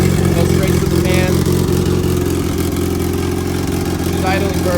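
A turbocharged all-wheel-drive Honda CRX engine idles on its first start-up, a loud, steady, low mechanical hum with faint clatter and no clear revving, close to the car.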